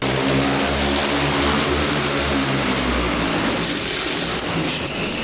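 Large strike-drone propellers drone loudly and continuously close by during landing, a deep buzzing whir that holds steady throughout.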